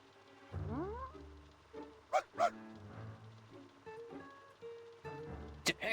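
A voice actor imitates a dog for the character Pickles, with whimpering, yelping calls and short bark-like bursts spread over a few seconds, close and clear.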